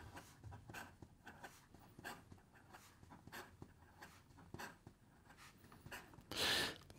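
A fountain pen with a broad steel nib writes quickly on paper, producing a string of short, faint scratchy strokes in an irregular rhythm, close up in a quiet room.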